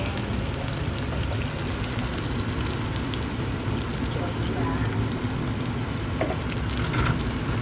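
Bottle gourd fritters fry in hot oil with a dense, continuous sizzle and crackle, steady throughout, while a voice talks faintly beneath.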